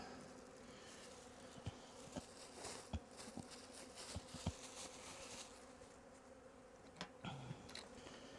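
A steady, low hum of many honey bees buzzing around an opened hive with honey supers fills the air, with occasional louder passes as individual insects fly near, and no one speaking.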